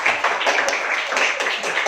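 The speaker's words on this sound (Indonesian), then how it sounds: "Kita beri tepuk tangan dulu dong" Guests at an Indonesian classroom gathering give a short, dense round of applause, steady overlapping hand claps filling the room at close range without a break.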